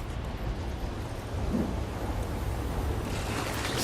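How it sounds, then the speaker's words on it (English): A storm in the game Death Stranding rumbles as a low, broad roar of wind, steady and fairly distant, swelling slightly toward the end. "Sounds like another storm."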